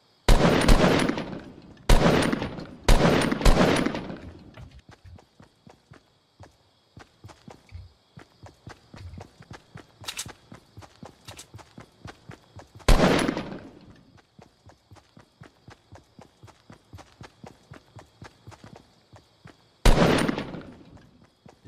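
Fortnite gameplay with an aimbot player firing: loud sharp gunshots come in clusters at the start and then as single blasts, separated by quick regular footsteps, with no talking.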